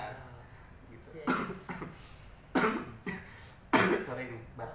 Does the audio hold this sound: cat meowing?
no